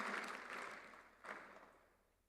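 Faint audience applause at an international education meeting, a soft wash of clapping that swells briefly and then fades away.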